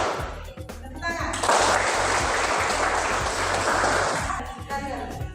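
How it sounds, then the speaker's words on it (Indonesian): A group of people clap together in a classroom-style coaching session, a dense burst of applause lasting a few seconds amid low background hum, with talk before and after. "Tepuk tangan."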